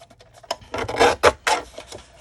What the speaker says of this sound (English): I'm going to use my decal trimmer.